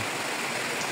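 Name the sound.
heavy rain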